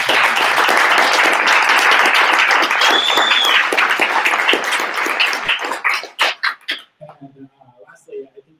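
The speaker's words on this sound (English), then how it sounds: "big round of applause" An audience applauds after a presentation at a Universal Basic Income create-a-thon, a dense, steady wash of clapping that holds for about six seconds, then thins into a few scattered claps and quiet.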